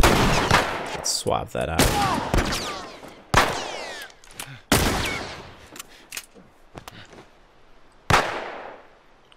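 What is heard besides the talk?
gunfire in the video game The Last of Us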